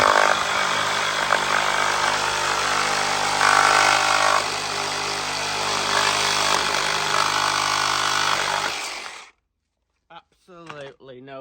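A reciprocating saw with a carbide blade cuts through cement block and hardened screws, a loud, continuous harsh buzzing grind close by for about nine seconds before cutting off, followed by brief talk.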